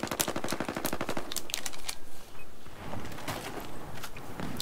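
Battlefield 4 gunfire crackles in rapid automatic bursts, with a fast, dense machine-gun rattle at the start, then scattered sharper shots and further bursts, fairly close and alone without talk.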